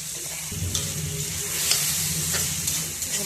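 Vegetables with tomato sizzle and fry steadily in a pan for vermicelli pulao, with a constant close hiss, soft stirring scrapes and a few faint clinks, alone without talk.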